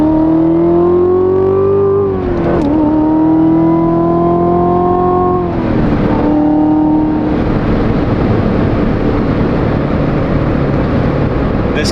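A one-of-a-kind Corvette accelerates hard, its loud engine note climbing steeply, snapping back at two quick gear shifts, then roaring on at full throttle with a thick, rasping exhaust.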